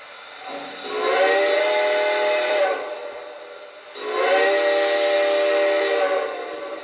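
A Lionel Legacy model steam locomotive sounds its whistle twice, each a sustained chime-like blast of about two seconds with a breathy steam hiss, close and clear, separated by a short pause.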